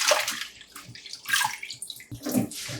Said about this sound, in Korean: 물을 잠기도록 받아 3번 정도 물을 갈아가며 흔들어 씻어주고